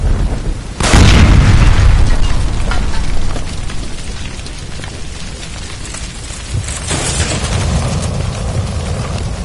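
A loud, close gas line explosion in L.A. Noire bursts suddenly with a heavy boom, then a long roaring rumble and crackling debris that fades slowly, with a second smaller surge later.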